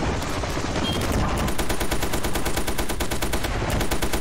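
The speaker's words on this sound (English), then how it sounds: "The guys on the machine gun shooting at the Chinook up there." Sustained rapid machine gun fire in the video game Ravenfield, aimed at a Chinook helicopter, a loud continuous burst of closely spaced shots with dense background battle noise.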